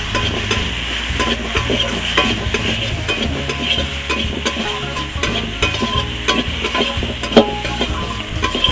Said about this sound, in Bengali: আর এখন আমি লঙ্কা গুঁড়ো দিয়ে দিচ্ছি।